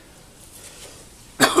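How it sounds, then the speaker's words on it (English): A single sharp cough bursts out near the end after a quiet stretch, loud and close, during an outdoor military ration meal tasting. "Man, that cough."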